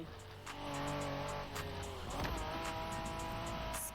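Honda NSX sports car from the 1990s driven in the racing video game The Crew Motorfest, engine droning and revving steadily with gear changes under game music, while a voice talks over it.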